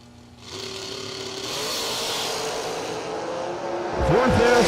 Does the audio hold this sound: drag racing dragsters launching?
yes